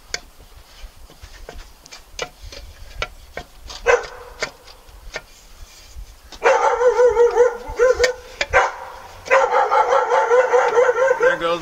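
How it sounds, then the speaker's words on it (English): A dog barks at a UPS delivery driver at home, first a series of sharp separate barks and yips, then two bursts of loud, rapid, continuous barking close by. "My dog loves to bark at him."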